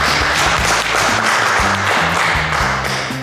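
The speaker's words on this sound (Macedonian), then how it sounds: "Еден голем аплауз ве молам" A studio audience at a televised cooking competition bursts into loud, dense applause that holds steady throughout.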